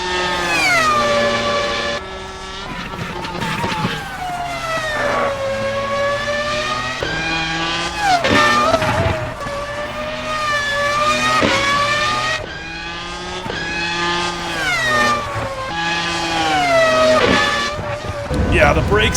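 A Ferrari brakes hard and downshifts into a corner on the Nordschleife, its engine note dropping and climbing again in repeated loud sweeps heard from inside the car.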